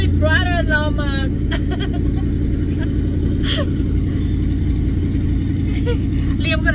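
A 1963 Ford Fairlane 500 hot rod's engine drones with a deep, steady rumble during a ride, heard from inside the car, with voices briefly over it near the start.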